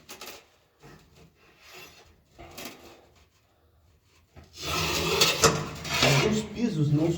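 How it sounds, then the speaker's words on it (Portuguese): Manual tile cutter scoring a ceramic wall tile: after quiet handling clicks and knocks, a loud, gritty rasping scrape runs for about two seconds, close up. "e já vou para a riscadeira para cortar"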